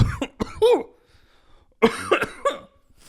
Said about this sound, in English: how to cough directly into a microphone